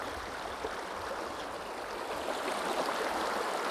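Río Mixteco, also called Río Grande, a deep river flowing steadily with a continuous broad rushing wash of water, close and even throughout with no voices.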